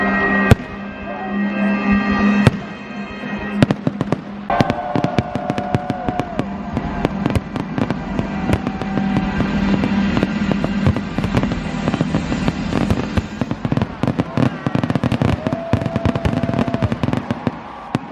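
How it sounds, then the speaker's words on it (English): Fireworks at a Groundhog Day celebration at Gobbler's Knob in Punxsutawney, Pennsylvania pop and crackle in rapid bursts, sharp bangs scattered over a continuous rumble, with whistling rockets rising now and then. "Fireworks."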